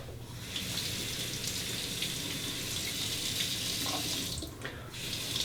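Steady running water from a tap gushes continuously while a straight razor is rinsed beneath it, close and fairly loud with no speech.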